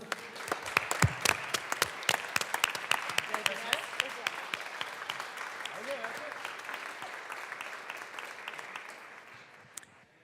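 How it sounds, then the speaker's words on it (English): Lawmakers and guests in the Colorado House chamber give a round of applause to visiting high school seniors, crisp individual claps that are sharp and dense early on and gradually thin out before stopping near the end. "Let's give them a big round of applause"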